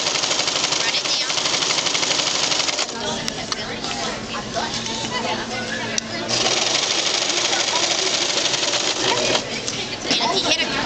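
A sewing machine runs steadily as it stitches fabric, a loud continuous mechanical whir with a brief slowdown partway through, and a voice talks over it.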